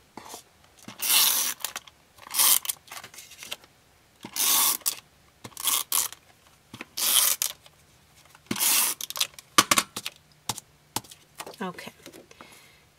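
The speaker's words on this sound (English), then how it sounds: "I'm going to use my tape runner" A tape runner rolls adhesive onto white card in a series of short, crisp ratcheting rasps, about eight bursts with pauses between, close and fairly loud.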